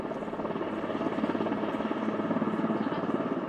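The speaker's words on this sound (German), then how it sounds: "Immer wieder kreisen Hubschrauber wie dieser in den Schneeregionen über Bäumen." A helicopter's rotor chops steadily overhead, loud and close, flying low over snow-laden trees, a continuous rhythmic thudding beating with no voices.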